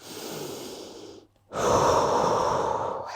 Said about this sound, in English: the best thing to do is just breathe. In through the nose,